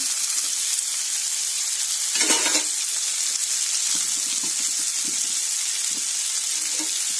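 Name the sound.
potatoes and capsicum frying and stirred in a pan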